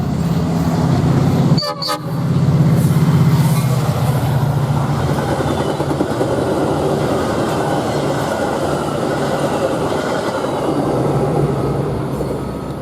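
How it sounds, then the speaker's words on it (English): A westbound metro train passes nearby with a loud, continuous roar and rumble of wheels on rail, a sharp clack briefly breaking through near the start, the noise holding steady before easing slightly at the end. "it's just a westbound metro"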